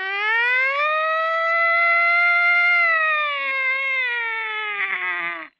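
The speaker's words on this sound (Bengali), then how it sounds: "সাইরেন বাজছে।" A loud wailing siren sounds in a wartime scene from a dramatic Bengali film, one long sustained tone that rises, holds and slowly falls away before cutting off, heard alone.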